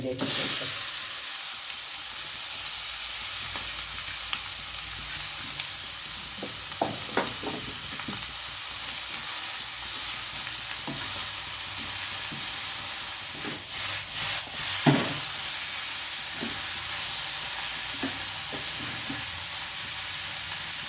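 Marinated fish frying in a pan with curry leaves, for a Kerala-style fish thoran. A steady sizzle and hiss runs throughout, broken by scattered clinks and scrapes of stirring.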